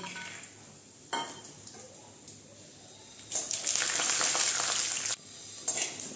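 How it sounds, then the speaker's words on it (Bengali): Raw peanuts sizzle in hot ghee, the crackle swelling into a loud burst of frying partway through before settling back to a quieter hiss. "এর মধ্যে দিয়ে দিচ্ছি এই যে কাঁচা বাদামগুলো ভেজে নিচ্ছি"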